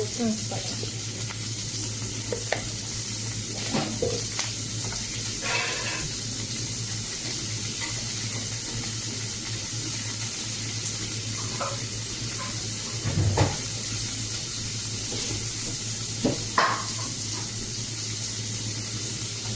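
Ingredients for wheat upma fry in a pan with a steady sizzle throughout, broken by occasional stirring clinks and scrapes.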